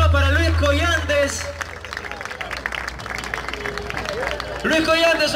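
Live audience applause and cheering for a singer at a rumba group performance, steady crowd clapping throughout with music and voices mixed in, swelling louder again near the end.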